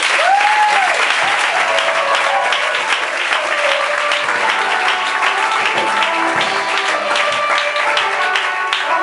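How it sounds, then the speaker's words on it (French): A congregation bursts into louder, dense applause at a consecration service, steady and sustained from start to finish, with faint voices mixed in. "Acclamez plus fort que ça."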